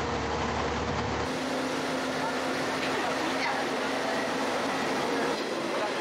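A train runs through forest and valley, its steady rumble and rolling wheel noise filling the scene continuously at close range, with a voice faintly talking underneath.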